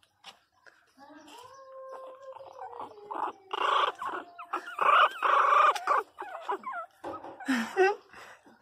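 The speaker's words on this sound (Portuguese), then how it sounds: "É uma galinha," A chicken clucks and squawks nearby in a run of excited calls, with other noises mixed in.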